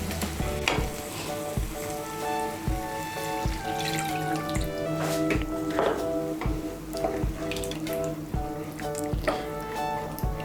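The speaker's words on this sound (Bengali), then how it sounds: "আমি মশলার বাটিগুলো ধুয়ে এর মধ্যে আমি 1 কাপ জল দিচ্ছি" Potatoes for a vegetarian Kashmiri dum aloo sizzle in a pan of spices as a cup of water is poured in, a steady loud frying hiss with clattering stirring knocks.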